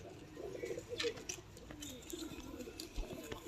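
A Prince Kamagar pigeon with red eyes makes soft low cooing sounds in a few short murmurs, fairly faint, with light patters and faint background noise around it.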